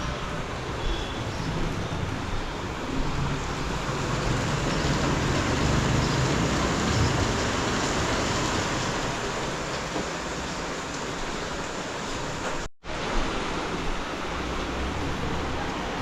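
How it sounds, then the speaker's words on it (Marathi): Heavy, continuous rain pours down in Badlapur East as a dense, steady wash of noise with no breaks, save for one very brief dropout near the end. "पाऊस जो चालू आहे तो कंटिन्यूस चालू आहे"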